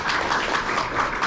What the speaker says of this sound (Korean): 머리 허옇게 되신 분들을 위해서 박수 한번.